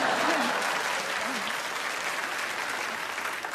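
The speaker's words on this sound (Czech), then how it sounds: "Potlesk." An audience at a stand-up comedy show applauds in a dense, sustained burst of clapping that slowly tapers, with a few faint voices calling out over it.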